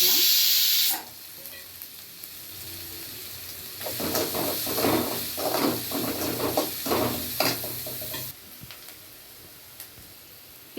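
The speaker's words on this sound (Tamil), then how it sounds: "கொஞ்சம் சோம்பு, வெங்காயம் போட்டு கொஞ்சம் வெங்காயம் வதங்குற மாதிரி வதக்கி வச்சுக்கலாம்" Onions and fennel seeds sauté in a pan, a steady sizzle with bursts of stirring scrapes in the middle stretch, close and moderately loud, quieting near the end.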